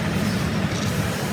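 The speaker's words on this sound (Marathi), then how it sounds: "ही ट्रेन आली आहे पण ती नको आम्हाला" A passenger train pulls into a railway station, a steady broad rumble of wheels and carriages rolling close by without letup, with no talk over it.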